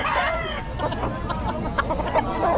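Several chickens cluck and squawk steadily at a chicken farm, a busy, close-up flock chatter with occasional louder calls.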